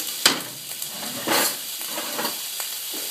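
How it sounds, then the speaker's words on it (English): Food hits a hot pan of olive oil and sizzles, with sharp hissing bursts as ingredients drop in and get stirred, loud and close with no talking. "So I'm going to go ahead and just put this in. Here's the sizzle."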